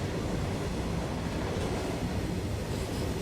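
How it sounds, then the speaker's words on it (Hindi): A freight train rolls past near Madurai outer signal, heard from aboard a passenger train as a loud, continuous low rumble and rush that holds steady with no voices. "मालगाड़ी क्रॉस हुई है।"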